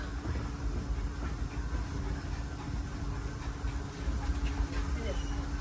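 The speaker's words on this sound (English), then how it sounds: "please remain seated until the train comes to a complete stop" Disneyland Railroad train rolling along its rails, giving a steady rumble with faint rhythmic clatter, while a recorded announcement speaks over it.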